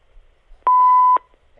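A single clear electronic beep, a steady tone lasting about half a second, loud and close with quiet before and after.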